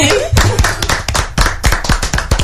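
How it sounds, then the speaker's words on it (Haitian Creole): A crowd at a Creole women's event claps in brisk bursts, close and loud, sharp hand slaps over a short stretch. "On l'applaudit."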